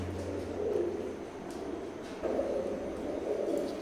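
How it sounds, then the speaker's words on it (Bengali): Imported-line teddy pigeons of Cobra generation coo in soft, low, rolling bursts, a few overlapping calls close by against a faint steady background hum. "স্ক্রিনে এখন যে কবুতর জোড়া দেখতে পারতেছেন কোবরা জেনারেশনের"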